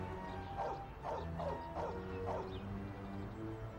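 Dogs in the video game Mafia barking in a rapid series of about five yips and bow-wows, moderately distant over a low ambient hum.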